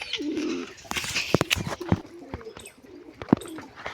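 Pigeons cooing near at hand, with repeated low throaty coos mixed with wing flutters and scattered clatter as birds gather.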